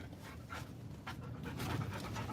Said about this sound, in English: Gia sees another doggy.